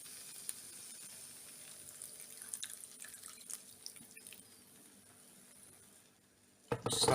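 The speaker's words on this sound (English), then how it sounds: "So just add a bit of water." Water trickles and drips from a kitchen tap into a cooking pan, soft and close, with a louder splash of running water toward the end.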